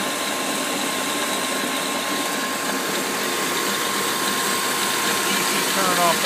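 Electric motor driving an induction generator makes a continuous, even mechanical whir with a faint steady tone, constant and close.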